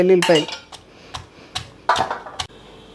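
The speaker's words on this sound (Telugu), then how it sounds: "ఇదిగోండి వెల్లుల్లిపాయలు దంచేసుకుందాం." Garlic is pounded in a stone mortar while making mango pickle, with several sharp, separate hard thuds and clinks spaced irregularly and close by.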